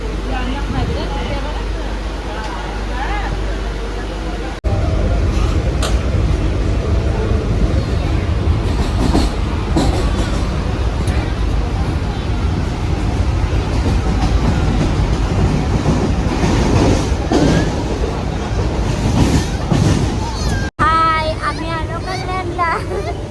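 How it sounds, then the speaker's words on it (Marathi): A moving train rolls along with a continuous loud rumble and rhythmic clickety-clack from inside a carriage, and a child and other people talk over it. "बसलो आता ट्रेन मध्ये भेटली भरपूर जागा आहे ट्रेन मध्ये"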